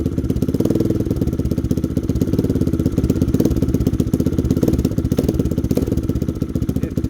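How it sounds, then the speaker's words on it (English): A Lifan KP Mini 300 motorcycle with a ZS175FMN 4-valve engine idles steadily up close, its low, even putter continuous and fairly loud throughout. "I'm actually checking to see throttle adjustment right now. So right now, you see I'm barely turning it. You hear the idle."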